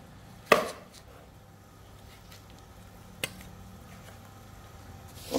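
A knife chops through dog meat and bones on a board, giving three separate heavy, close thuds spaced several seconds apart over quiet background noise.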